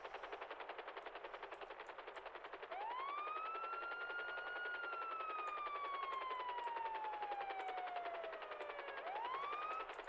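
A wailing siren rises, slowly falls in pitch over several seconds, then starts climbing again, sounding from a moderate distance over a steady hiss.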